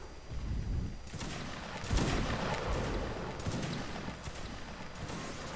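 Musket volleys in Mount and Blade: Napoleonic Wars, several ragged bursts of overlapping gunfire cracking at intervals over a steady battlefield rumble, moderately distant.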